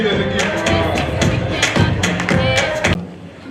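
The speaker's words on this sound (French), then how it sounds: "On applaudit les équipes." An audience at a school team competition semi-final applauds and cheers the two teams, a brief burst of clapping and crowd noise with thumps that stops abruptly near the end.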